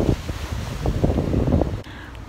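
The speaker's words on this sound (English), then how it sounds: "it's windy. Too much wind" Strong outdoor wind buffets a microphone, producing loud, uneven low rumbles and gusty blasts that fade out abruptly near the end.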